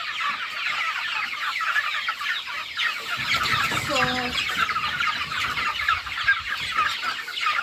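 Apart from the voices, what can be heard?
broiler chickens clucking in a poultry pen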